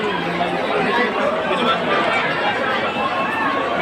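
A loud, continuous hubbub of a large crowd, many voices overlapping and chattering at once with no single speaker standing out.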